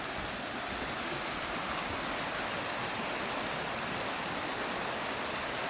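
A waterfall on a hike in Sweden, running low over rocks, gives a steady, broadband rush of falling water that fills the whole stretch with no voices.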